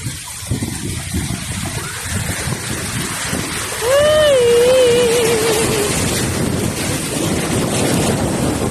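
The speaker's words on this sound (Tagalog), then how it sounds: "Ay, grabe yung alon." Ocean waves at Sabang Beach in Baler, Aurora roll in with a loud, continuous rushing wash and wind buffeting the microphone, as a high voice shouts in the middle of the surf.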